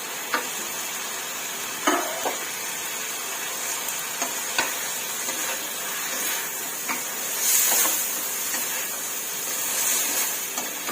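Mixed vegetables with minced pork stir-fry in a pan, a steady soft sizzle punctuated by scattered scraping and clinking of the utensil, fairly quiet with no talking.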